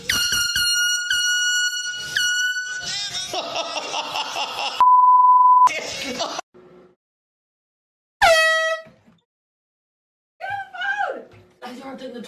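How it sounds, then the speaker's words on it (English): Loud air horn blasts in wake-up pranks, several sharp harmonic honks followed by shouting and a beeping tone, with quiet gaps between the bursts and yelled voices at the end. "So this is going to be an air horn prank compilation video"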